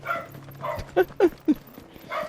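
A pet dog barks indoors: three short, sharp barks in quick succession at moderate volume, over faint background sound with a brief murmur before them.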